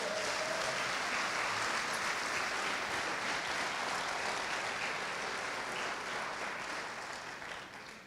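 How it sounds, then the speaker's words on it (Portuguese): A church congregation claps in sustained applause, a dense wash of many hands beating together that holds strong for several seconds and then begins to thin and fade toward the end. "Você pode aplaudir Jesus por isso?"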